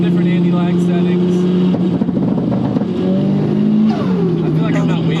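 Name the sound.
Nissan S15 big turbo engine revving with anti-lag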